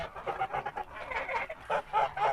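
Four-month-old Kholmogory domestic geese call in a quick series of nasal honks and cackles, several birds close by, with short pauses between bursts.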